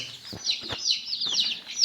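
Chicks and hens peep and cluck softly near a coop, with a run of high chirps and a few low clucks in short irregular bursts, close and fairly quiet.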